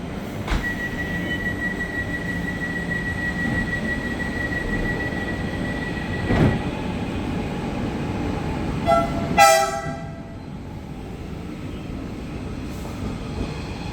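A KRL commuter train running into track 5 at Duri station, with a steady rolling rumble, a long high wheel squeal, sharp clanks and a brief horn-like blast near the end.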